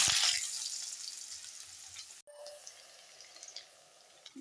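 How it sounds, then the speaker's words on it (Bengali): Cubed potatoes frying in hot mustard oil hiss strongly at first, then settle into a softer, crackling sizzle after a brief pause, near and without talk. "তেল গরম হয়ে গেছে এখন আমি আলুগুলো আস্তে আস্তে ছেড়ে দেব"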